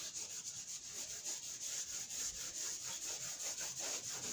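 Chalk is rubbed off a classroom board, a steady scratchy back-and-forth wiping that repeats rhythmically at moderate loudness with no voices.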